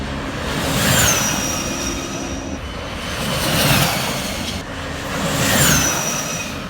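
Team Mugen's electric race bike at the Isle of Man TT Zero sweeps past in three high whining passes, each rising and fading with a falling electric pitch as it nears and goes by, over steady outdoor rumble.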